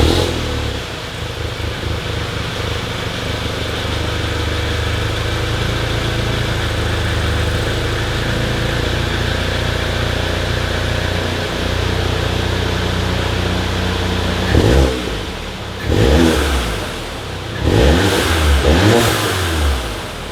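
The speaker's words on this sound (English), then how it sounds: "I'm gonna do a startup rev stock right now." Stock Volkswagen Mk7 GTI exhaust with its resonator in place, starting up and settling into a steady low idle, then several sharp revs near the end.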